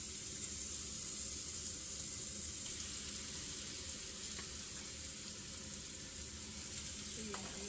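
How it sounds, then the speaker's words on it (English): Chicken sears in a pan with garlic for chicken tinola, giving a steady, close, even sizzle with a few faint clinks and stirring sounds. "now I'm gonna start putting in the chicken, and let's sear it"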